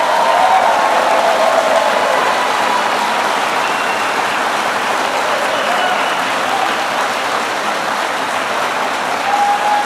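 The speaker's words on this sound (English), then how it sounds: "Let's give them a round of applause." Sustained, loud applause from a crowd at a political event on tax cuts, with dense continuous clapping that barely wavers for about ten seconds and no speech over it.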